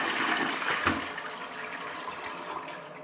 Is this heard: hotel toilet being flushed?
yes